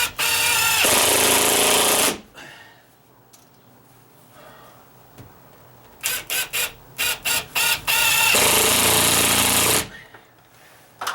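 An impact drill drives 2.5-inch screws into wood, hammering loudly in a long burst, then a quiet gap, then quick stuttering pulses and another sustained rattling run, close by.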